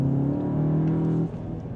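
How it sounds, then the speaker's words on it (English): A car fitted with an Akrapovic exhaust gives a loud, steady droning engine note that shifts pitch and eases off slightly near the end, with no separate pops standing out. "Oh, this is a Krapovich exhaust. It's very beautiful, right? Sometimes it gives you the crackles and pops."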